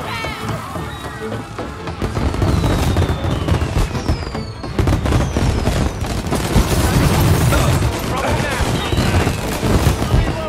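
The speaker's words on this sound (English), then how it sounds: "And now for the fireworks," Fireworks in the Mafia Definitive Edition video game, a dense continuous barrage of crackling pops and bangs with whistling rockets, loud and sustained, alongside crowd noise and some talk.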